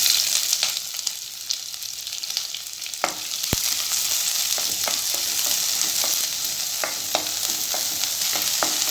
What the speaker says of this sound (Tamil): அதை இதில் சேர்த்துட்டு நல்லா வதக்கிக்கலாம்.